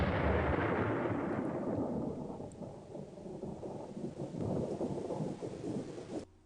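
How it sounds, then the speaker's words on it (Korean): A deep, heavy rumble of thunder effect rolls on continuously for several seconds, loud at first and slowly fading before cutting off abruptly, in a Korean horror radio story. "고정포, 고정된 탱크 같은 그런 소리 같은 천둥이"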